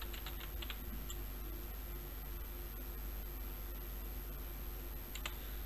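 Keys on a computer keyboard are typed in a few quick, faint clicking bursts against a steady background hiss.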